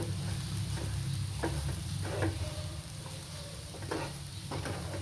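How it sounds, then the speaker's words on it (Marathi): Peanut chutney sautés in a pan with a steady, close sizzle, broken by periodic scrapes of a spatula stirring it through. "एक 5 ते 10 मिनिट परतून घ्यायचं हिला फक्त."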